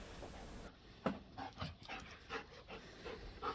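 A dog pants in quick, soft breathy bursts close by, steady and fairly quiet, with no talking over it.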